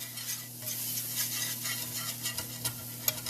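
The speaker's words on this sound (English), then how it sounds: "I want to get all those little great bits from the frying of the turkey" Shallots stirred in a frying pan with turkey drippings, a spoon scraping the pan bottom in repeated strokes over a soft, steady sizzle, close and alone.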